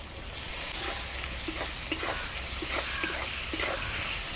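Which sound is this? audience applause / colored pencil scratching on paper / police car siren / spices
spices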